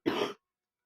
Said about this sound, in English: all of a sudden I start coughing again